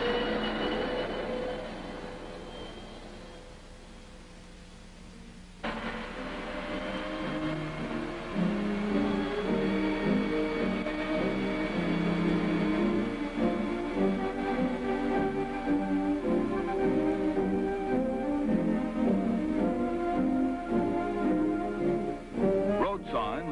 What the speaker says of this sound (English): Our air-cooled turbo dart kicks right off and pulls out to lead the way to the coast.